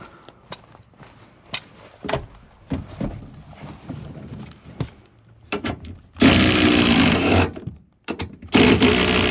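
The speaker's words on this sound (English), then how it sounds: "we're actually going to go get the power tool to finish removing these" A loud power tool whirs in two bursts, one long and one shorter, removing bolts on a 2011 Ford F-150 during back glass replacement, after a stretch of quieter clicks and clanks.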